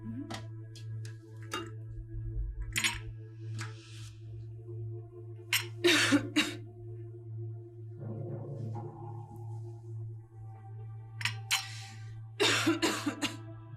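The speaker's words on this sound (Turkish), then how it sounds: "Öksürmekten için çıktı." A person coughs indoors in several harsh, scattered bursts, some clustered in quick fits, over a steady low hum with small clinks and ticks nearby.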